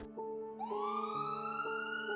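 An ambulance siren sound effect in an animated horror story, with a steady rising-and-falling wail repeating several times over about two seconds, clear and fairly close.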